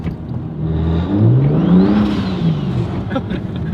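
A 700-horsepower single-turbo BMW 335i pulls hard through third gear on snow, its engine note loud and climbing steadily in pitch before easing off, with faint mechanical clatter.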